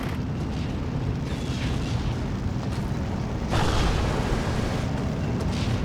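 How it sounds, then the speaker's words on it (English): Mortar shells burst in a Steel Division 2 battle in a continuous rumble of booms, with one heavier blast near the middle, over a dense wartime game soundscape. "I've now been hitting their back lines with the mortars just to stop any further reinforcements."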